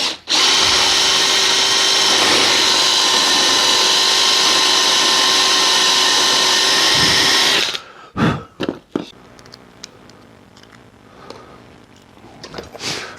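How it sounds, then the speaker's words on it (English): A power drill with a countersink bit bores out the breather hole flange of a drum shell, a loud steady whine running about eight seconds before stopping, followed by a few clunks and handling noises. "I've got a countersink drill bit, see on there, and I'm going to try and drill this out."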